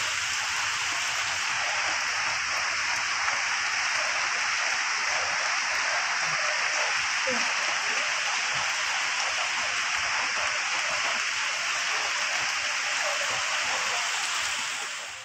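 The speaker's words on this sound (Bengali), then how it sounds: "খালি বৃষ্টি" Rain falls steadily near a station area in Chandannagar, a constant dense hiss that holds evenly throughout with no voices.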